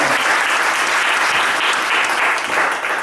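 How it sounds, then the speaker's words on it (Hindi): A church convention audience claps together in a sustained, dense round of applause, loud and continuous for the full stretch with no voices over it. "वो बहन जी के लिए ताली बजा दो।"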